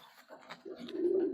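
A Kaldam pigeon gives a soft, low coo, one short rising murmur building toward the end, faint and close with no talk.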